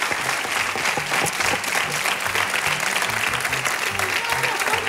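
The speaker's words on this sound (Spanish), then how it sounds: "¡Un aplauso para Laura!" Studio audience applauding Laura on a Spanish TV variety show, a dense steady wash of clapping throughout with music and voices faintly underneath.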